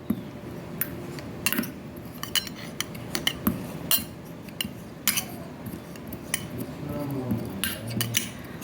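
Fresh Rama tulsi leaves are crushed and ground finely by hand, giving repeated sharp clinks and knocks of a utensil at an irregular pace, close and fairly loud.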